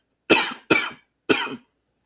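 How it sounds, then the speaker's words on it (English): Three harsh coughs close to the mic, two in quick succession and then one more after a brief pause. "Ooh, excuse me, I got a cough."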